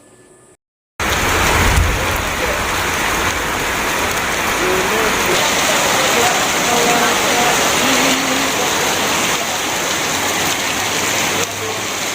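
Heavy rain pours steadily on a surface during a downpour in Bangladesh, a dense, loud continuous hiss after a brief quiet opening, with a low rumble near the end.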